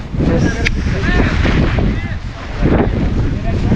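Strong monsoon wind buffets the microphone on the Harihar fort trek, loud low rumbling gusts rising and falling, with voices talking faintly underneath.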